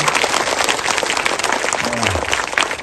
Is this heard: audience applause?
yes